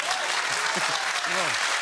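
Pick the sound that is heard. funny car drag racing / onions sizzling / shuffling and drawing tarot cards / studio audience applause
studio audience applause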